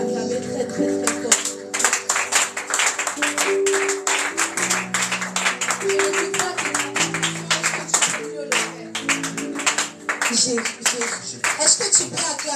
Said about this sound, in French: Est-ce que tu peux acclamer très très très fort?